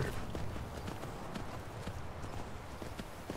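Horse hooves clip-clop steadily in the video game Skyrim, a continuous, fairly close rhythm of hoofbeats with no other clear sounds on top.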